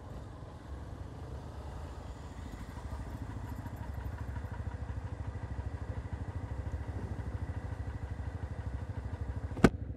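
A Honda Twister motorcycle with a modified exhaust rumbles steadily at close range, a deep throbbing exhaust note held throughout, with a sharp click near the end.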